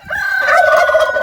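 A meat chicken standing on a scale lets out one loud, drawn-out call close by, with no voices over it.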